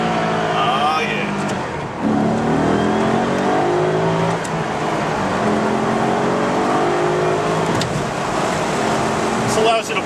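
A 2004 Maserati Cambiocorsa Spyder engine in sport mode pulls and revs close up, pitch climbing and dropping through gear changes under wind and road noise, with someone talking over it.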